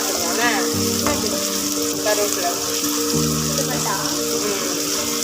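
A fish curry with curry leaves sizzles in a pan as a ladle stirs it. The frying is a steady, close crackle with a few metallic scrapes, and voices talk over it throughout.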